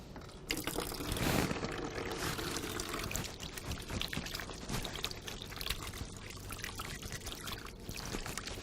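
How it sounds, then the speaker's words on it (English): Hands being washed thoroughly under a running tap as part of a nursing procedure: a steady, close stream of pouring, splashing water that keeps up without a break. "the next step is to wash the hands thoroughly"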